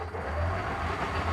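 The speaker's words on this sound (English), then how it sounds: "Switch on. Starter. Clutch. Gears. Handbrake." An old car's engine runs at steady idle after being started, a low continuous rumble heard close and alone, without talk.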